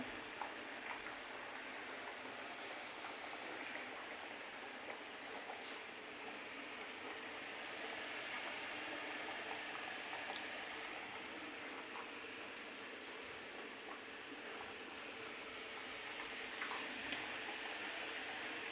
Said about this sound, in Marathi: गॅसची फ्लेम फुल आहे फुलच ठेवायची मस्तपैकी रस्सा खळखळून उकळतो